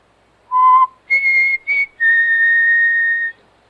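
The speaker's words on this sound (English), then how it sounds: "I just whistled." A man whistles a few clear, close tones in a vintage radio drama, starting with short rising notes and ending on a long held pitch, with no talk over it.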